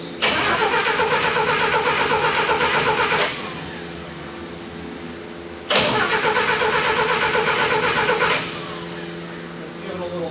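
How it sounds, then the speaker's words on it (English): An engine started with little or no choke catches twice, each time bursting into a loud, close running roar that holds for a few seconds before dropping back, while a person talks. "see if I can just get this to start without using a whole lot of choke, or if any"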